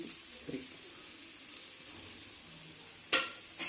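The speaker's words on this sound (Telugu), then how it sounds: "నెక్స్ట్ ఇది కొంచెం ఫ్రై కానీ" Raw tomatoes frying in a pan, a soft steady sizzle with faint stirring, then a sharp clatter of a spoon against the pan near the end.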